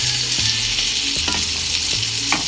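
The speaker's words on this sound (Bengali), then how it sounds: "টমেটোগুলো আমি ভেজে নিব।" Tomatoes fry with onions in a hot pan, giving a steady close sizzle and crackle broken by scraping stirs of a utensil against the pan, with no talking.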